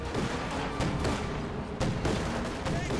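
Flak Panzers fire rapid, loud anti-aircraft bursts in a Company of Heroes 2 battle, a dense rattle of overlapping booming shots with sharp repeated cracks over continuous battlefield noise.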